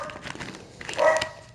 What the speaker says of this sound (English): Uh oh, the dog's out.